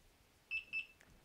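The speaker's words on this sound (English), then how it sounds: "So turn the alarm on, wait for two beeps." Delkim bite alarm sounding two short, clear electronic beeps as it is switched on, close and alone in a quiet setting.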